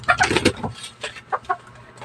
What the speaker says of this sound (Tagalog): aking manok, ba't nandito?